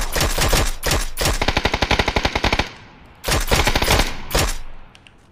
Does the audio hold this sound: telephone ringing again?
no